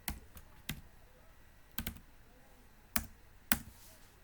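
Sparse keystrokes tap on a computer keyboard, about six distinct clicks spaced unevenly over a few seconds, close and quiet in a still room.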